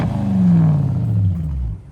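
A car engine running on LPG gives a single throttle blip, a deep rumbling rise that settles back over about two seconds, close and fairly loud.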